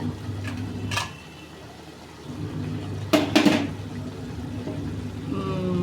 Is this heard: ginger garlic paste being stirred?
yes